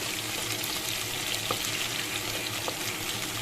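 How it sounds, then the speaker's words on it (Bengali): A dense, continuous sizzle of potatoes frying in hot oil in a pan, close and steady, with a couple of faint knocks; no voices. "এই দেখো, আলুগুলো একটু ভাজা করে নিচ্ছি"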